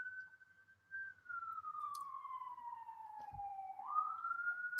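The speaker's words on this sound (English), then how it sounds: "Y'all hear the sirens." A single emergency vehicle siren wails from a distance on a city street in Baltimore, its pitch sliding slowly downward then rising again, faint and steady with no talk over it.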